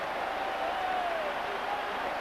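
Home crowd at Cardiff Arms Park during the 1983 Wales v Ireland rugby international, a steady, broad wash of applause and crowd noise sustained throughout.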